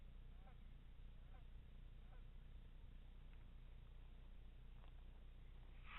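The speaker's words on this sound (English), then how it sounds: "There's a large goose flying." Faint, distant honks from a large goose in flight repeat a few times over a steady low rumble of wind or water, fading in and out.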